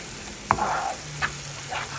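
Egg stirred into a frying eggplant dish in a pan: soft sizzling with a few scraping stirs, the loudest near the start and another shortly after, no talking.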